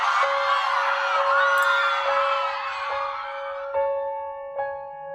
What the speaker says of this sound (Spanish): se escuchan todas estas personas que fueron torturadas por el doctor